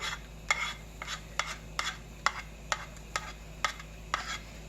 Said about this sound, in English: So I want to put a little bit of ham inside and mix them.